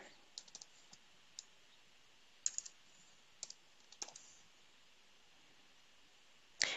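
Sparse keyboard clicks in short bursts and single taps, quiet and close, with pauses between them over a faint steady hiss.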